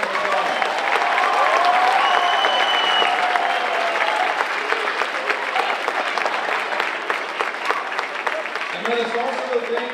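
Audience applause at a school wind ensemble concert for band students from sixth to twelfth grade, a sustained dense clapping from a large crowd lasting throughout, loud and steady with faint voices and cheers mixed in.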